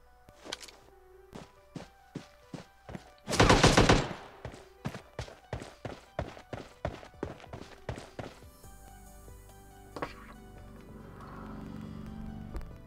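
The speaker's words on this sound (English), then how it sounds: "I heard gunshots. So I need to proceed with caution." Gunshots in the mobile battle royale game PUBG Mobile: a series of sharp single shots at an irregular pace, with one louder burst of rapid fire partway through and faint ambient game sounds afterward.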